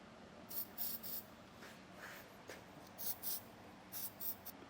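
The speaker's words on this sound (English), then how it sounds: "we'll go ahead and spray down our exhaust hangers with some lubricant" Lubricant is sprayed onto the exhaust hangers of a 2016 Mazda in several short, quiet, hissing bursts with brief pauses between them, close by and with no talking.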